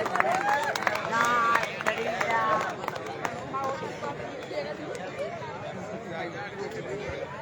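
A crowd at a state-level village kabaddi tournament claps for both teams, scattered applause and lively chatter blending under an announcer's amplified voice throughout.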